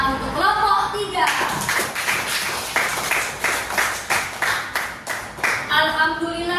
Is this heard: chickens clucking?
no